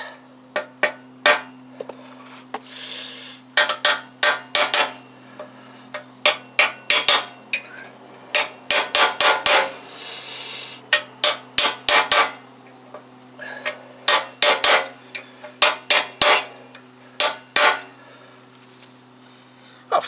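A hammer drives a drift punch into a Kawasaki GPZ500S motorcycle frame, ringing out in sharp metallic strikes. The blows come in quick bursts with short pauses between them, loud and close, under a low steady hum.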